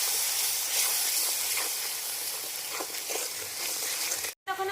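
Pointed gourd curry frying with salt and red chilli powder in a pan gives a steady close sizzle and hiss with faint stirring scrapes, cutting out briefly near the end.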